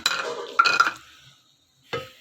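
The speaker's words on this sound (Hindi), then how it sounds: "अब मैं इन दोनों चीज़ों को डिश आउट करती हूँ।" Rice and daal gosht being served onto a dish, heard as a few close spoon-on-plate scrapes and clinks followed by a pause and one last short clatter.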